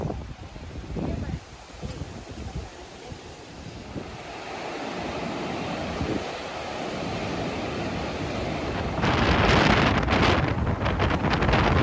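Surf breaks on a Baltic Sea beach at Zelenogradsk while wind buffets the microphone, and the waves grow louder and closer toward the end.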